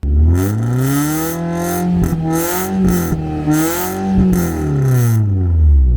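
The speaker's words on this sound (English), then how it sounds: "This exhaust is just way too loud" A modified car's engine revs up and down repeatedly, its loud, droning exhaust rising and falling in pitch with a deep rumble throughout.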